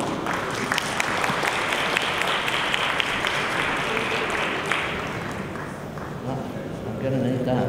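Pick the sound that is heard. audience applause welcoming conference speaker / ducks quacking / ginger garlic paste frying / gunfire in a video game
audience applause welcoming conference speaker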